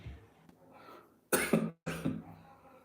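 A person coughs two loud harsh bursts close by, preceded by a faint throat clearing, in an indoor setting with no speech.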